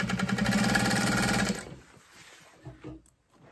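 Sewing machine running a rapid, steady stitch at long stitch length along the folded open edge of a messenger bag, loud and close for about a second and a half, then stopping into quiet room noise with a few small knocks.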